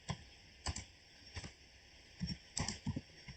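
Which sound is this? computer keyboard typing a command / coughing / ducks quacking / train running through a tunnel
computer keyboard typing a command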